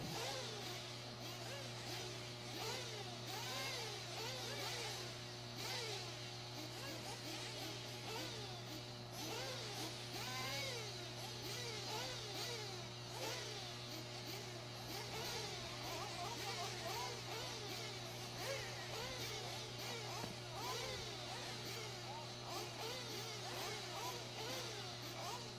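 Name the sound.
nitro RC buggy engines racing on track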